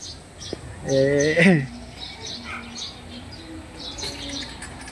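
Several birds call and chirp in an aviary, a sharp burst of harmonic calls rising near the start then scattered chirps and coos in the background, with faint ambient murmur throughout.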